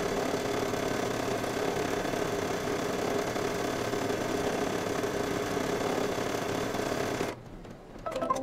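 A multi-needle embroidery machine stitches a quilt block at a steady, fast mechanical whir and drone, running continuously and then cutting out near the end.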